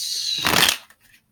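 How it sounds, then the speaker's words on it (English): A deck of tarot cards is shuffled once in a brief, close, crisp riffle that lasts well under a second, followed by a couple of faint taps and then quiet. "I did pre-shuffle all these decks,"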